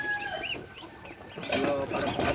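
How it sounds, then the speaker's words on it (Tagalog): Chicks peep in thin, high chirps, some overlapping, while fowl clucks and farmyard rustling rise toward the end; no talking is heard. "Yan ang mga sisiw."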